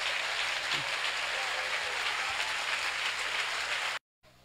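A church congregation applauds steadily, a dense, even wash of clapping at moderate volume that runs unbroken for several seconds before cutting off abruptly.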